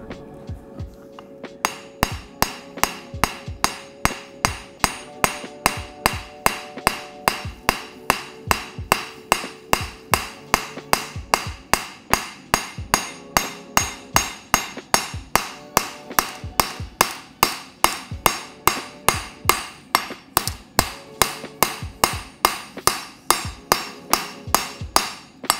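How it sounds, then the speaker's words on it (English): Hammer planishing a hot nakiri knife blade at a forge, a long, loud run of sharp metallic strikes in a fast, even rhythm, close and continuous throughout, with ringing overtones after each blow. "You're just planishing it, but you planish it at a lower heat range."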